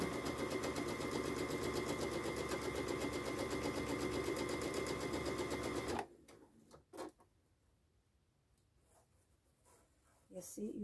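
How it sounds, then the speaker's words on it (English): A sewing machine stitches an organza scrunchie in a steady, fast mechanical whir for about six seconds, then stops and leaves quiet handling and faint rustling, with talk heard around it. "you just pull like that and keep on sewing"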